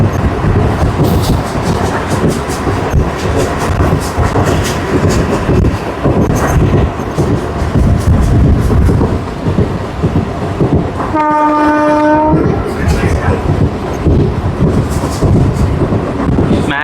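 A Repalle MEMU passenger train (67223) on the Guntur–Repalle line rumbles and clatters steadily near the microphone, with wind buffeting throughout. One long, loud horn blast sounds about two-thirds of the way through.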